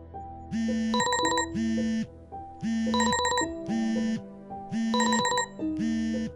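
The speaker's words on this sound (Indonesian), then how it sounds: "Alarm HP Naufal berbunyi di jam 8 pagi" A phone alarm rings loudly in a repeating pattern of bright trilling bursts over a steady melodic tone, cycling several times with no voices.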